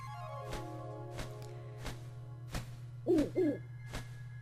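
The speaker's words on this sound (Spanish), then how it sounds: "Ahora viene el búho." Owl hooting in The Legend of Zelda: Link's Awakening, heard as a pair of short hoots over a steady game music background with rhythmic beats.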